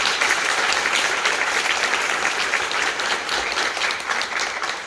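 Dense, sustained applause from a packed theatre audience at a stage greeting after the musical King Arthur, loud and continuous with no voices over it.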